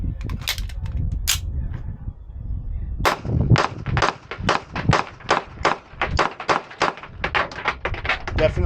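An Apollo 11 Compact pistol fires 147 grain full metal jacket AAC rounds: a couple of isolated shots first, then a rapid string of about a dozen sharp, loud cracks at a steady, quick rhythm.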